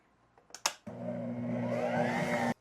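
A stand mixer kneads bread dough with cinnamon and raisins at its lowest speed, a steady close whirring motor hum running alone for a couple of seconds after a few brief knocks and clicks at the start.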